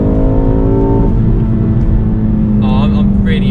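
A Mountune M330 tuned MK4.5 facelift Ford Focus ST pulls hard through the gears, its engine droning loudly from inside the cabin and the pitch shifting as it accelerates, with someone talking over it.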